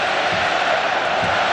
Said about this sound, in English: you can hear the crowd trying to lift the Russian team